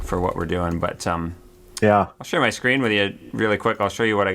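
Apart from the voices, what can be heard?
No everyday noise stands out behind the speech.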